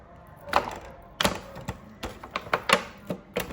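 Sharp knife cutting fat and skin away from a ham, giving a string of short, close scraping and chopping strokes at an uneven rhythm, with no talk over them.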